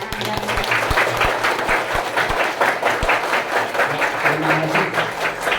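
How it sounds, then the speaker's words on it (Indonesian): At an elementary school anti-drug assembly in Kartoharjo, a group of children applaud in rapid, close clapping that runs steadily throughout, with crowd noise mixed in. "Tepuk tangan."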